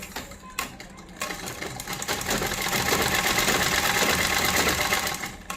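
Close up, a sewing machine runs continuously as fabric pieces are stitched together, a dense mechanical whirr that speeds up and holds steady after a few hesitant starts.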